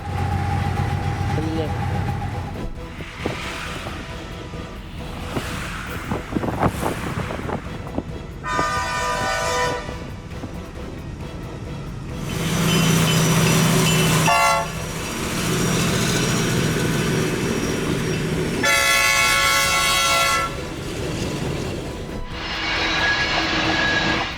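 A diesel locomotive engine works hard with a heavy, sustained roar, broken by several loud horn blasts in separate bursts, close and dominant throughout.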